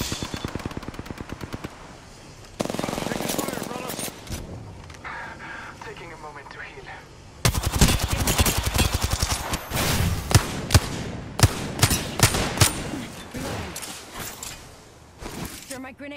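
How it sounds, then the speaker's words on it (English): Gunfire in an Apex Legends-style battle royale shooter: loud automatic bursts and sharp single shots come in clusters, pausing and resuming, with voices talking between and over the firing. "I am taking fire."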